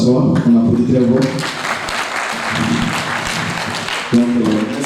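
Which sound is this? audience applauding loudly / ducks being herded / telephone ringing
audience applauding loudly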